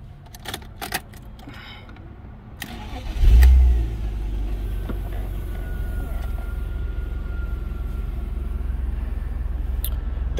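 A 1990s BMW 328i Touring E36 is started with a brief crank and a rising catch, then settles into a steady, close idle that runs on without voices, after a few clicks and clatters beforehand.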